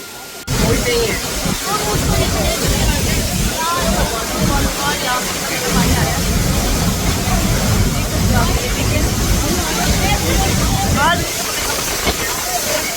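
Tiger Falls waterfall in Chakrata, Uttarakhand, a loud, steady roar of falling and splashing water close by, continuous broadband rush with faint voices of visitors underneath.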